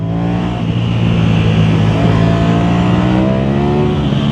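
Ducati Panigale motorcycle engine ridden fast on a road, a loud, steady, close engine drone holding a high pitch for the whole stretch, with wind noise and no talk.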